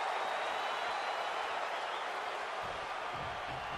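Crowd cheering for wrestler Randy Orton in a WWE video game, a dense steady roar of applause and voices that holds at an even level throughout.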